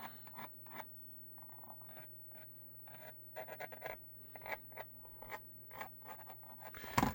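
A pen traces the outline of a holster mold for a Glock 19 with a light attached, giving soft, close scratchy strokes in irregular bursts over a low background hum.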